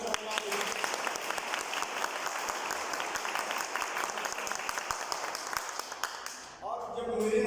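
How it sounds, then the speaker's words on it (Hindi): A seated audience at an indoor business presentation gives sustained, dense applause lasting several seconds, heard from within the hall, before a voice cuts in at the end. "एक बार जोरदार ताली"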